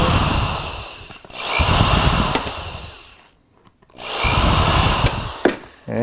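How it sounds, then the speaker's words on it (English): A power drill fitted with a nut driver backs screws out of shoes, loud whirring bursts of about two seconds each, separated by a short pause, with a brief click near the end. "You're going to want some sort of power tool because this does take some time."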